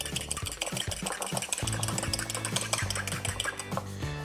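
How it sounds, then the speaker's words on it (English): Eggs being whisked into blondie batter in a bowl, a steady rapid clatter of whisk strokes against the bowl, close and fairly quiet, running continuously without talk. "Next, lightly whisk in 2 whole eggs."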